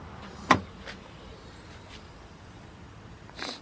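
Rear hatch of a 2004 Toyota Highlander is opened, giving a sharp latch click followed by faint mechanical rustles and a softer thud near the end, in a quiet setting.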